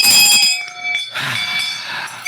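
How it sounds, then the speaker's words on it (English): A bell rung as a sound effect during a gaming chat show, its bright sustained tones ringing clearly for about a second and fading, followed by a busier mix of ringing and clatter. "I'm ringing my bell."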